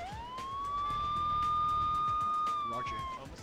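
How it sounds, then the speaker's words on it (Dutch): Emergency vehicle siren in the video game Emergency 4, a single sustained wail holding steady for about three seconds before fading, with someone talking over it. "Hoor je die sirenes ook, of niet?"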